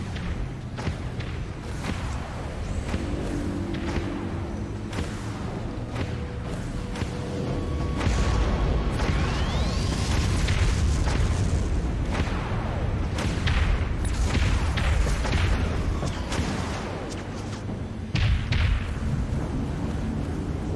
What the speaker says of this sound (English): Launching Vulture missiles.